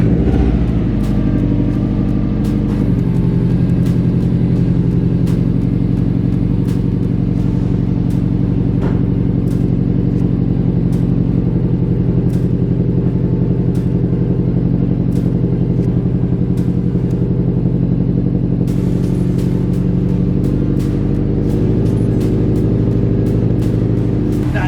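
A Subaru WRX fitted with a Nameless 4-inch axleback exhaust starts up and settles into a loud, deep, rumbling idle, close and steady throughout with light clicks on top.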